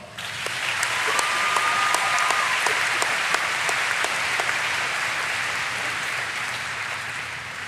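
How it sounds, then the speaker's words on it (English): A crowd at a high school commencement ceremony breaks into loud, sustained applause, a dense wash of clapping that holds strong for several seconds before easing slightly toward the end. "Can we please have a round of applause for the people who have made this possible?"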